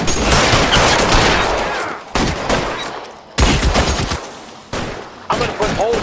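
Sustained gunfire from a firefight in the video game L.A. Noire, loud bursts and volleys of shots that cut out abruptly and resume in several blocks, with a voice shouting over part of it.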